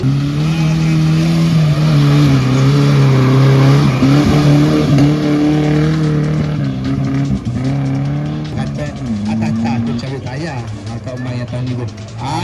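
A Mitsubishi Pajero 4x4 descends a slope under engine braking at an off-road 4x4 course, its engine droning steadily and loudly up close, with the tone shifting and someone talking over it.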